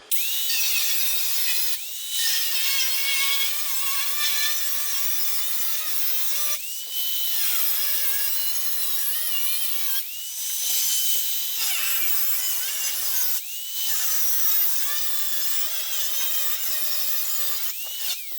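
A power saw cuts through a sheet-metal rear valance panel on a 1940 Ford-inspired hardtop coupe build, producing a loud, continuous high grinding whine that breaks off briefly several times before resuming.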